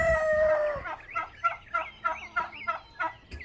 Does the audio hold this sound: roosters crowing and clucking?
yes